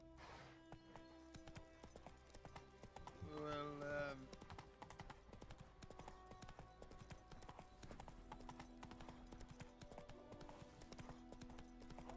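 Horse hooves clip-clopping in The Witcher 3 video game, a steady run of hoof strikes beneath game music and a brief whinny, with voices talking over it, fairly quiet overall.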